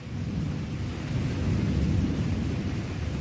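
Heavy downpour with thunder, a dense steady roar of rain over deep low rumbling that swells slightly midway, continuous and close with no voices.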